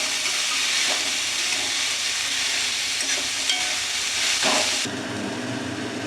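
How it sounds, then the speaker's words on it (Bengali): Chopped radish fries in a pan for a radish chicken fry, giving a loud, steady sizzle and hiss close up with occasional light stirring knocks, without any voices. "মূলো কুচিটা দিয়ে খানিকক্ষণ আমি ভেজে নেব।"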